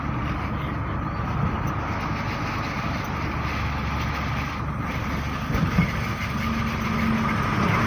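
Car engine running steadily while the vehicle slows and pulls over to the roadside on a road trip from Ernakulam, a loud continuous low rumble with road noise throughout and no talking.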